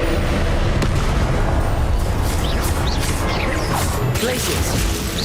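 Loud, dense crashes and booms from the Confringo fire spell erupt in Hogwarts Legacy, a sustained burst of explosive impact and debris over game music and effects.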